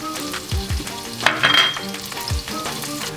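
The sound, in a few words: shaved garlic frying with chorizo in oil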